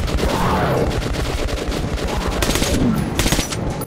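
Rapid, loud automatic gunfire in the video game Metro Last Light Redux during a fight with a large demon, a dense continuous burst of shots running through the whole moment with no talk.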